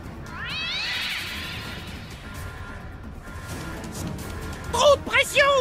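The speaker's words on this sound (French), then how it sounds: "On a un chat sur vecteur d'attaque." Cartoon cats meow and yowl in a South Park video game, a long drawn-out wail first, then sharper, louder overlapping meows near the end over game sounds.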